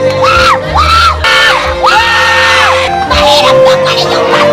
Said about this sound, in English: That was like teenagers screaming at the top of their lungs.